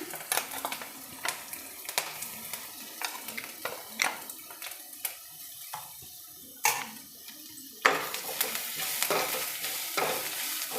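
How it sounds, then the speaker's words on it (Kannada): Ground masala frying with onions in a little oil for a cluster bean (gorikayi) palya, a soft sizzle broken by irregular scraping and clacking strokes of a spatula stirring in the pan. "ಸ್ವಲ್ಪ ಎಣ್ಣೆಯಲ್ಲಿ ಫ್ರೈ ಮಾಡ್ತೀನಿ ಈರುಳ್ಳಿ ಜೊತೆ ಫ್ರೈ ಆಗ್ತಿದೆ"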